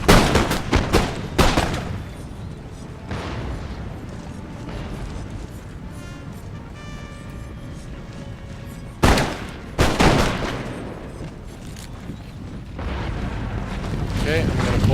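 Musket volleys crackle across an Empire: Total War multiplayer battle, a ragged fusillade of gunfire bursting at the start and again midway, over steady battlefield rumble and a player talking throughout.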